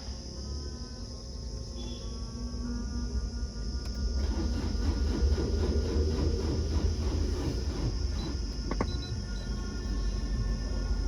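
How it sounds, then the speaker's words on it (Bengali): A Maruti Suzuki Ertiga diesel engine with a starting problem cranks on its self-starter, a loud, steady mechanical churning with a rapid rhythmic pulse that builds and runs on for several seconds without catching. "আমরা সেলফ মারছি গাড়িতে"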